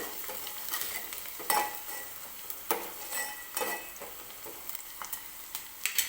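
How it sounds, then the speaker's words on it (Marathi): Chopped onion stirred and frying in a pan for a spicy curry, with soft continuous sizzling broken by several sharp scraping strokes of a spoon against the pan, close and fairly quiet. "कांदा छान भाजत आलेला आहे"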